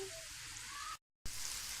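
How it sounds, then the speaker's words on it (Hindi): Masala frying in a pan for matar pulao, a faint steady hiss of sizzling broken by a brief silent gap before resuming. "इसको आधा मिनट हमने सिर्फ भून के फिर हम इसमें बाकी की चीज़ें ऐड करेंगे"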